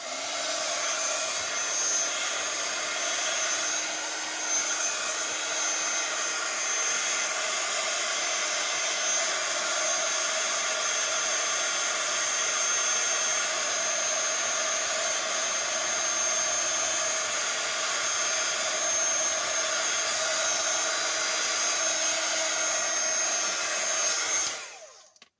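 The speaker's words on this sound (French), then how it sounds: "Donc je remets mon pistolet chauffant pour sécher l'alcool." A heat gun blows steadily to dry alcohol ink on a card, a loud, even whir with a constant high hiss lasting about 25 seconds before cutting off abruptly at the end.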